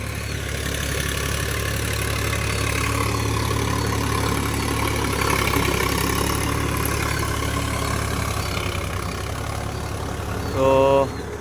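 A Sonalika 47 RX 4WD tractor ploughing a field, its engine droning in a loud, steady low rumble throughout, with a brief surge near the end and a voice faintly audible beneath it.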